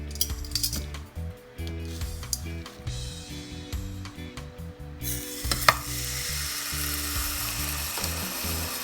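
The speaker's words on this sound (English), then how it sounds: "We're gonna saute the pork chop for about 2 minutes on each side" Pork chop seasoned with salt and pepper sizzles steadily in about two teaspoons of hot oil in a pan, with clinks and scraping of utensils early on, then a loud continuous close frying hiss.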